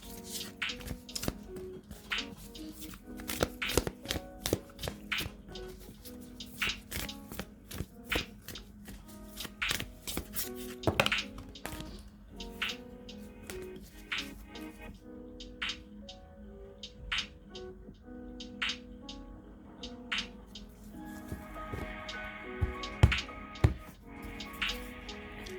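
Tarot cards are shuffled by hand in quick irregular bursts of soft riffling and slapping, close and fairly quiet, with no talking.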